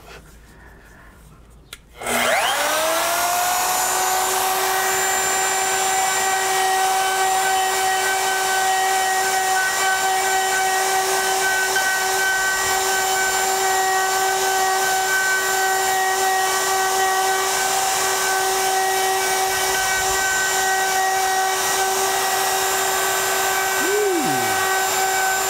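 A router fitted with a 90-degree V-groove bit carves the background of a wooden business sign by hand, spinning up after a moment of quiet into a loud, steady high whine with a continuous cutting hiss that holds throughout.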